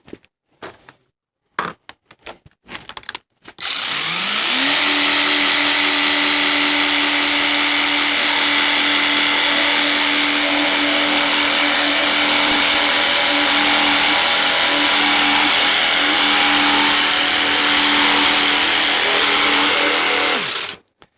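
A HEIMERDINGER LB131 mini pressure washer sprays a car. A few clicks come first, then the motor starts with a rising whine and runs as a loud, steady hiss and hum for about seventeen seconds before cutting off.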